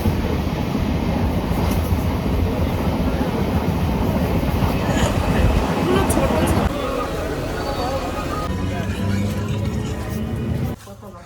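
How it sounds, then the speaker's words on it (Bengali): Interior of a moving air-conditioned passenger train: a loud, continuous rumble and rattle of the carriage with the hum of the cabin, easing toward the end, with faint voices at times. "এখন এসি ট্রেন পেয়ে গেছি, 5টা 15 ছাড়বে, একদম ফাঁকা।"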